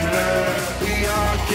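Sheep bleating during spring shearing on a farm, a loud sustained bleat with a wavering, rhythmic pulse, close and filling the whole short moment.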